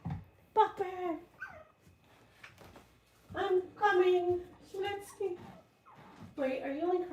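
A puppy whining and whimpering over a toy lost under a door, a few high, drawn-out whines and yips in short bursts, fairly close, with a person talking nearby.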